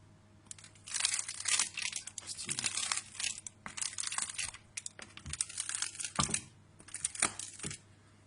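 Crisp baguette crust crackles continuously up close, a busy stream of small snaps and crunches in uneven bursts.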